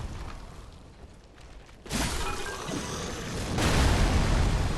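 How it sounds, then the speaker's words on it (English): A rumbling explosion in the video game Dark Souls 3, set in the Cathedral of the Deep: a broad roar rises suddenly and then swells louder near the end, with no voices. "Kaboom."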